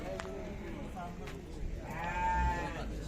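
Lambs and sheep bleat at a livestock market, with several tonal calls rising midway over a steady crowd murmur and nearby talk.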